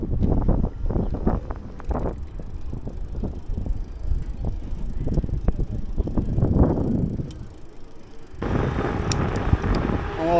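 Bicycle riding along Berlin city streets past a stadium entrance, with continuous wind rumble on the microphone, tyre and road noise, and passing traffic, steady and close throughout with a brighter, busier stretch near the end.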